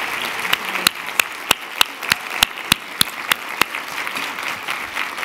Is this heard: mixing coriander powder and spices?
no